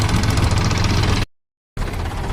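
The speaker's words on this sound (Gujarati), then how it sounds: "તો હવે અમે ડુંગર ગામમાં એન્ટ્રી થઈ ગઈ છે ત્રણ ટ્રેક્ટર સાથે।" A Mahindra tractor engine idles with a steady, loud, close rumble and vibration. The sound cuts to silence for a moment near the middle, then resumes unchanged, with no talking.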